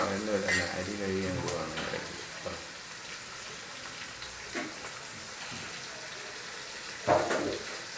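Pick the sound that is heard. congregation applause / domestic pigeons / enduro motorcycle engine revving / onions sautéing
onions sautéing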